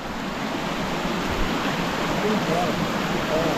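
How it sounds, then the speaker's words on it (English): River water rushes steadily and loudly throughout a river crossing on the Salkantay Trek near Cusco, Peru, a broad, even roar with no breaks. "crossing the river"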